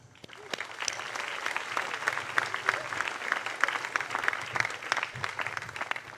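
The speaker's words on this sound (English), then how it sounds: "how about a round of applause for our excellent choir?" Audience applause for the choir at a college new student convocation, a large hall of steady clapping with sharp individual claps standing out, moderately distant.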